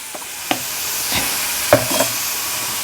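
Ginger garlic paste sautéing in a pan for an egg curry, a steady close sizzle broken by a few scraping stirs of a spoon, with no voices.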